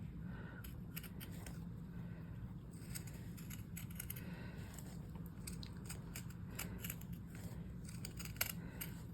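Pinking shears snip through fuzzy Minky plush fabric in a rapid series of short, close, crisp cuts over a low steady background hum, with no talking.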